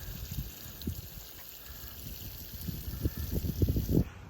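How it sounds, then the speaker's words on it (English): Water poured from a hose or can onto freshly planted kidney beans in a backyard garden bed, a quiet splashing and gurgling that swells into louder bursts toward the end. "now I'll just water them in with a good deep"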